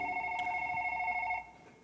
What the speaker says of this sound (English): That's Rob's old flip phone